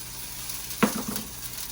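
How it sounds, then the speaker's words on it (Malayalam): Chopped onion dropped into hot oil with popping mustard seeds in a Kerala kitchen, a sudden loud hiss and sizzle that swells and then settles into a softer crackling fry. "കടുക് അങ്ങോട്ട് നോക്കുമ്പോൾ നമ്മൾ എന്തോ ചെയ്യും, നമ്മൾ ഉള്ളി അങ്ങോട്ട് ഇടും"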